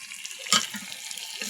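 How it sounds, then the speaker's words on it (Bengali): Polao rice is swished and rinsed in water by hand, a brief close splash and slosh lasting barely more than a second, with no voices. "তো বসে বসে চালটাও ধুয়ে নিছি।"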